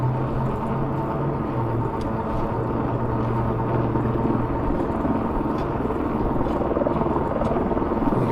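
Steady low rotor drone of a helicopter passing overhead during a dark early-morning e-bike ride on a suburban route, a constant mid-level rumble with no clear beat, heard alone without talk.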